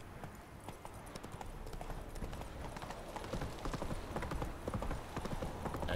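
Geralt's horse Roach gallops in The Witcher 3, hooves pounding in a fast, steady clip-clop that grows slightly louder, with a brief whinny and no talk.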